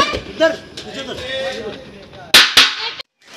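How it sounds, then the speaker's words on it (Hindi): Firecrackers bursting in a residential street, two sharp loud cracks in quick succession standing out over a background of voices and street noise. "हमारे दोस्त गली में पटाखे फोड़"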